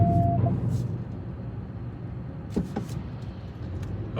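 A car rolling off a Washington State ferry at the Seattle terminal, with steady low engine and road rumble from inside the cab, a brief tone near the start and a couple of knocks along the way.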